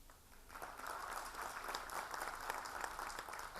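An audience at a live Dastangoi storytelling performance breaks into applause after a brief quieter start, building into sustained, dense clapping from many hands that holds steady and fills the room.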